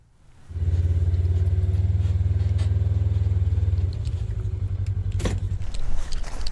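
Old pickup truck engine starting and idling, a loud steady low rumble that settles after a few seconds, with a brief rattle near the end.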